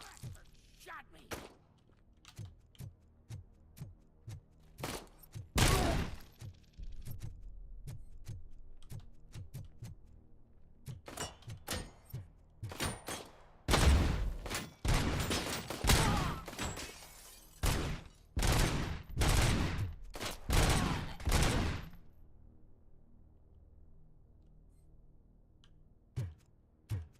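Gunfire crackles in the video game RoboCop: Rogue City, with rapid bursts and single loud shots in volleys, thuds and impacts mixed in, then a quieter stretch near the end.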